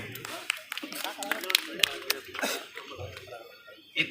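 An audience at a seminar talk in a college gives scattered claps, and a voice speaks over the sparse clapping throughout.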